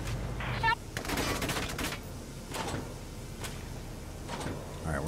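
Enemy gunfire in the war video game Valkyria Chronicles 4, a few quick sharp rifle bursts spaced across the moment against a low rumbling background, with voices in the mix.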